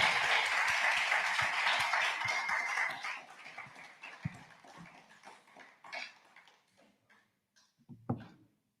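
Audience applause after a talk, a dense steady patter of many hands for about three seconds, then thinning into scattered individual claps and small room noises that fade out.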